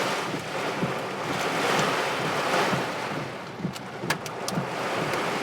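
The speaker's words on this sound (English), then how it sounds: "the water is just rushing down right now" Storm water rushes down outside during an 80 mph high wind storm, a constant loud roar of water and wind buffeting the microphone, with a few faint higher clicks near the end and no talking.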